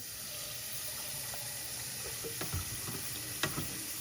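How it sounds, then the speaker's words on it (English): Tap water runs steadily while the Proscenic WashVac F20 cordless wet dry vacuum is cleaned with a brush, a soft continuous rush with a few faint knocks and clicks. "Turn on the water."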